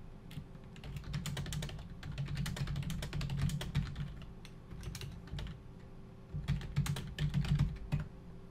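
Quick, uneven bursts of typing on a computer keyboard, close and fairly quiet, with a pause in the middle and then a final flurry of key taps while an email is written.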